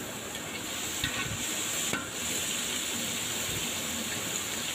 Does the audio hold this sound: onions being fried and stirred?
yes